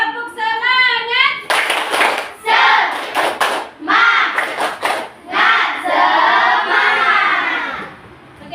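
A classroom group performs the rhythmic Indonesian spirit clap, tepuk semangat, with loud bursts of synchronized hand claps alternating with chanted, shouted voices in a close, lively patterned sequence.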